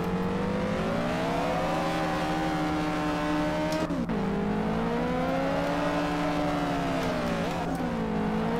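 A car engine in the drift racing video game Drift Street Japan revs continuously, its pitch rising and falling. Two sharp dips mark quick shifts or lifts partway through, and there is no speech.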